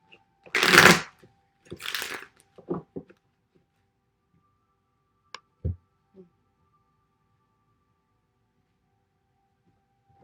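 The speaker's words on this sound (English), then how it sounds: "I shuffle until they tell me to stop." Playing cards shuffled by hand during a tarot reading, two loud riffling bursts up close followed by a few softer taps and card handling, then near silence with one or two faint knocks.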